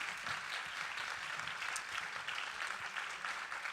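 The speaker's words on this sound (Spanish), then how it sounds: "vamos a darle un fuerte aplauso" A crowd claps steadily throughout, a dense, even patter of applause at moderate volume with no talking over it.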